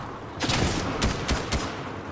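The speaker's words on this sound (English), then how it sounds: "I'm getting shot from behind!" Several gunshots crack in quick succession during a Fortnite squads match, three or four sharp bursts over a steady noisy game background.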